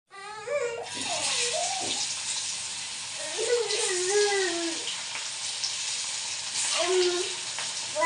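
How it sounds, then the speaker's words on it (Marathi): Coriander vadi fry in a pan with a steady, broad sizzle lasting throughout, while someone talks over it at intervals. "आता त्या फ्राय करून घेते"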